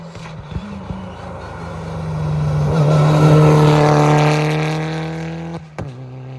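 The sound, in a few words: rally car arriving at speed on a stage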